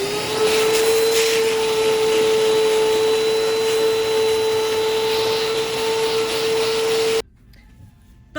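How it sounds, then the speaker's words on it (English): A vacuum cleaner runs close and loud over a fabric cutting table while sewing with fur. It keeps a steady droning whine with a strong tonal hum for about seven seconds, then switches off suddenly. "So don't vacuum until you vacuum off your cutting table."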